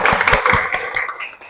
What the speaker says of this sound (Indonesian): tepuk tangan untuk Mailina